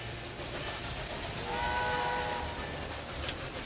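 A train in the railway strategy game Railway Empire 2 rumbles along steadily, with a sustained whistle tone rising briefly near the middle over the continuous rolling noise.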